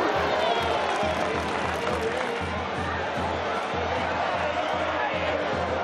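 A large crowd in the bullring at the Mora town festival, held with young heifers, gives a sustained ovation: steady, dense applause and cheering that fills the whole stretch at an even level.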